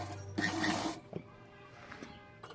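A sewing machine stitches lace along the edge of a salwar in a short, steady whirring run of about half a second, then falls to faint clicks and handling noises.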